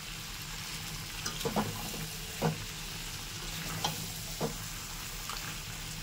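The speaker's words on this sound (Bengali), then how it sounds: "আজকের মাংসটা আমি একটু কড়াইতেই করব" Mutton kosha cooking in a kadai, a continuous soft sizzle of frying meat broken by several scraping stirs of a spoon at irregular intervals, close and steady, without talk.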